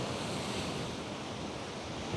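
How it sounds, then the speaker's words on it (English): Steady ocean surf rolls and hisses under gusting wind in Roatan, Honduras, a constant wash of noise with no voices. "take a look at those waves"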